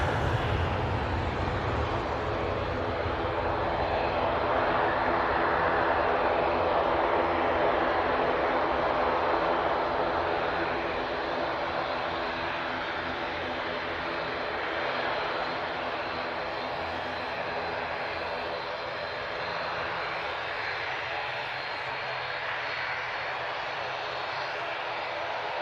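An airliner departing Manchester Airport for Belfast gives a sustained jet engine roar that swells mid-way and then slowly eases off, steady and moderately loud.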